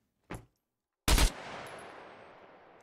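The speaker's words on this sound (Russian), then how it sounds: "Когда стреляешь с автомата." Gunfire from an automatic rifle in a video game: a short sharp shot, then a louder blast with a long fading echoing tail, no talking.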